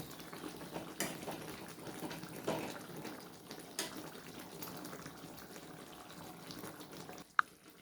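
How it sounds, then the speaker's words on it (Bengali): Eggplant and pabda fish simmering in a bubbling curry sauce, a soft steady watery bubbling throughout with occasional louder pops and a sharp clack near the end, no talking. "ঝোলটা আমার ফুটে গেছে, এবার আমি বেগুন মাছগুলো এতে দিয়ে দেবো।"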